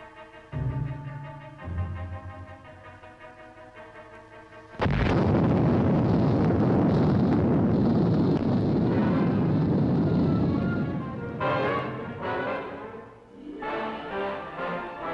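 A nuclear test explosion at Yucca Flats, Nevada, bursts in suddenly after orchestral music and becomes a massive, sustained roar and rumble. The blast slowly fades as the music returns.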